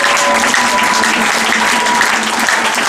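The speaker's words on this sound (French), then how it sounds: "Est-ce que tu peux recevoir le Seigneur avec des acclamations?" A church congregation claps and cheers loudly and continuously, a thick wash of many hands with voices raised underneath.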